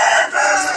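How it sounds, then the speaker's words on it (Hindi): A two-year-old rooster crows once, a short, loud, bright call filling the moment with no voices over it. "तो मुर्गा बार बार बोल पड़ता"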